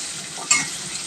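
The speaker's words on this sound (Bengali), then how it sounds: "এগুলো এখন একটু ভাজা নেব।" Onion, green chili, garlic cloves and turmeric powder fry in a pan for a cabbage dish, a brief, close, soft hiss of oil with one sharper stir or clink in the middle, no speech.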